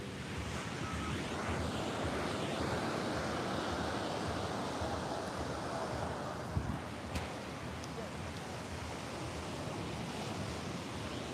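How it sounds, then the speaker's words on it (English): Ocean waves at a beach in Puerto Rico make a steady broadband wash of surf and wind, continuous and fairly loud throughout with no clear voices. "Hear the ocean in the background"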